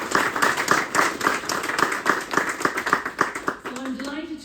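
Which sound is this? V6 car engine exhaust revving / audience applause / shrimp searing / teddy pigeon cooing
audience applause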